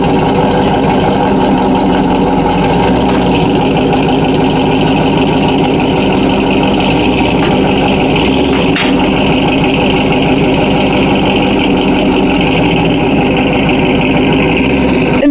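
A Corvette V8 engine idles loudly nearby through a stainless steel catless exhaust with long tube headers, a steady, deep, lumpy rumble with a throaty exhaust burble that continues throughout.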